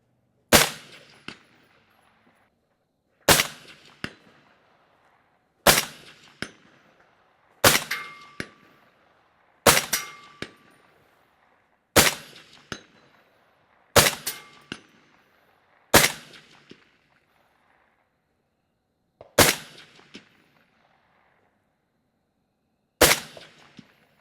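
.308 rifle shots ringing off steel targets at a shooting range, about ten sharp loud reports spaced a few seconds apart, each followed by a quick metallic clang and a short decaying ring, with no talking.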